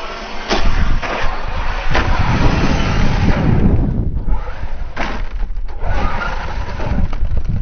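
A Traxxas Slash RC car bashing outdoors, with a steady, loud buzzing motor whine through the whole stretch and a few sharp thumps as it lands and bounces.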